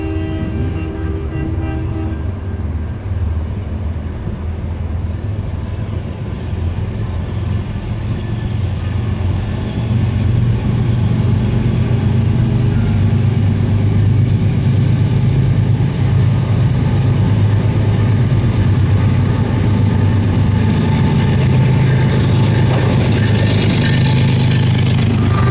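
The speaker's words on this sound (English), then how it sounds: "A train that turned out to be NS-29G, with an awesome all-DC lash-up including a Dash 9," A Norfolk Southern NS-29G freight train passes, led by an all-DC locomotive lash-up including a Dash 9 that chugs hard. It gives a loud, continuous low rumble that swells and stays heavy as the train rolls by close below.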